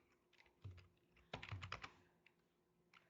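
Someone types a local account name on a computer keyboard during a Windows 11 setup: a few soft scattered keystrokes, then a quick cluster of crisp clicks, then a final tap, close and quiet with no talk.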